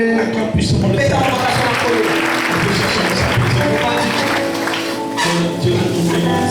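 Church congregation clapping and cheering for the Lord, dense sustained applause mixed with voices and music, loud and continuous throughout.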